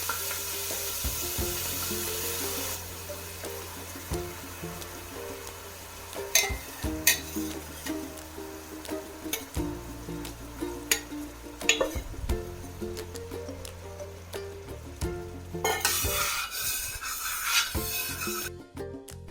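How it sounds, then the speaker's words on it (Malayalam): Jaggery syrup bubbles and sizzles thickly in a heavy pan, broken by occasional clinks and scrapes of stirring, with a brief burst of rushing water near the end. "ശർക്കരപ്പാനി നല്ലപോലെ തിളച്ചു വന്നിട്ടുണ്ട്"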